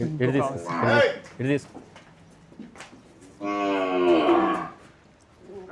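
Someone talks briefly, then after a pause a Kankrej cow lets out one long, loud moo close by.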